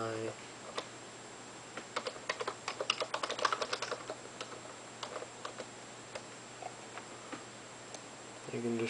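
Keystrokes on a keyboard while a custom Touchgrind skateboard description is entered, arriving in a quick uneven burst in the middle, then scattered single taps. The clicks are close and fairly faint over a steady low hum.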